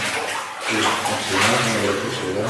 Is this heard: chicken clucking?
no